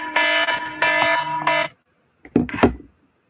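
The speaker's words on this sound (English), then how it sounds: "that alarm sound scares me, really" A toy Barbie microwave sounds its alarm, two loud buzzing electronic beeps in quick succession, followed after a pause by brief handling clatter.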